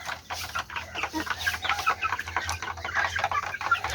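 Chickens on a farm cluck in a steady, overlapping chorus, busy and fairly close, with a low hum underneath.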